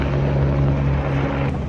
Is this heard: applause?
no